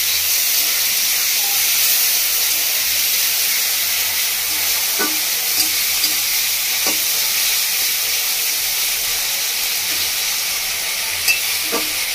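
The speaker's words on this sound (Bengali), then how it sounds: "টমেটোটা হালকা হালকা ভাজা ভাজা হয়ে এসেছে" Steady sizzling and hiss of tomatoes frying in a pan, with a few soft clinks of a spoon stirring now and then.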